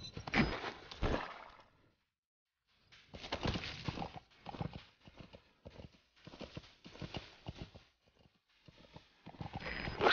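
Horse hooves clip-clop steadily in Metal Gear Solid V: The Phantom Pain, a close, rhythmic gallop that breaks off briefly near the start, then resumes in uneven bursts.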